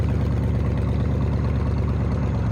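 Big-block V8 car with side pipes, likely a Corvette or Cobra, idling nearby with a deep, steady, lumpy rumble and regular pulsing exhaust beats, loud and continuous with no talk.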